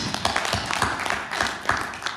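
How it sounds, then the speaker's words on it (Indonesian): A church congregation claps in steady, dense applause, sustained and fairly loud throughout. "Berikan tepuk tangan untuk Tuhan Yesus."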